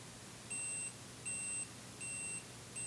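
Compact Canon film camera's self-timer gives four short, evenly spaced electronic beeps, high and thin over a quiet background.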